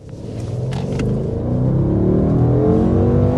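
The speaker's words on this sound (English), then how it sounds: "Oh man, I love the sound of a Mercedes V8." A 2025 Mercedes S-Class V8 under hard acceleration, a deep smooth rumble building steadily louder as the revs climb, heard from inside the cabin with no talking.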